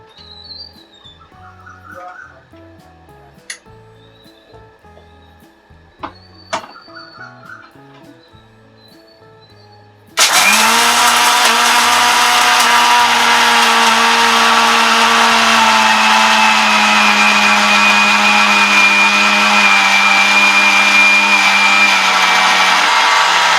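A mixer grinder (mixie) grinds spices to powder. After about ten seconds of quiet clicks and handling, it switches on abruptly and runs as a loud, steady, high-pitched whirring roar to the end.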